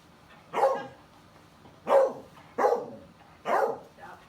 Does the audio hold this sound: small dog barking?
yes